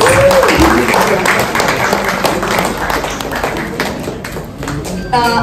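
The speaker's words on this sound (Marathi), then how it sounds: "एकदा टाळ्या अवधूत वाडकर सरांसाठी प्लीज" Audience applause and clapping for Avadhoot Wadkar at the launch event for the Yere Yere Paisa 3 movie song, a dense, steady roar of hands filling the room for several seconds.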